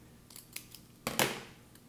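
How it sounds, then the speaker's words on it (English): Scissors snipping small paper squares for a pop-up diorama craft, a few light clicks followed by two close, crisp cuts in quick succession with no talking. "we're going to make a little snip"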